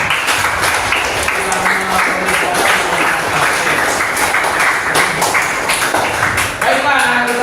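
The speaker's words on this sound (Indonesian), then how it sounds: "Tepuk tangan untuk teman kalian yang" Students in a classroom clap for classmates, a dense, close round of applause with sharp individual claps and some thumps, children's voices mixed in under it.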